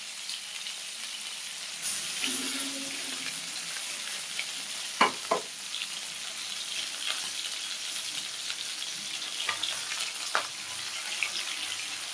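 Catla fish roe fries in its own oil in a pan, giving a soft continuous sizzle with a few sharper pops and scraping stirs, close and moderately quiet, with no voices.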